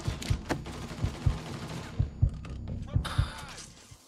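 Gunfire in the video game Mafia III, a series of sharp, punchy shots at irregular intervals over a busy game soundscape, with a brief burst of brighter noise near the end.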